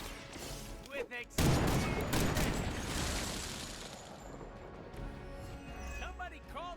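Gunfire from a Marvel video game: a short burst of shots followed by a loud, dense blast of weapon noise and effects, with a voice talking over parts of it.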